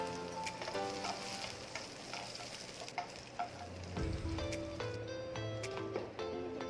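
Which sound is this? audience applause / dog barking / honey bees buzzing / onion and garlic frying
onion and garlic frying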